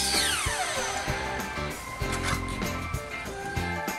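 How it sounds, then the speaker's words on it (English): A miter saw fitted with a masonry blade cuts through concrete wall pavers, giving a dense, harsh grinding with repeated knocks and rhythmic pulses, moderately loud and without voices. "I had some trouble getting started with the first cut on the miter saw. But before long, I was set up and sawing away."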